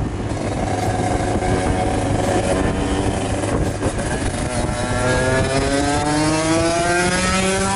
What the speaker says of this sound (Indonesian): Suaranya teman-teman tadi kan gue udah coba pakai motornya dia